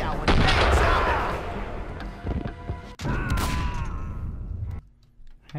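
Gunfire in the video game Max Payne 2: loud sharp bursts of shots and booms in quick succession, mixed with game dialogue and clatter, then a sudden drop to near quiet near the end.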